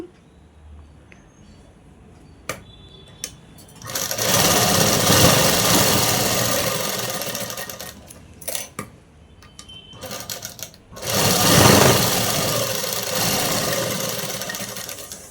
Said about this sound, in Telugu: డబల్ కుట్ అనేది వేసుకోవాలండి షోల్డర్లకు ఇంకొక వైపు కూడా సేము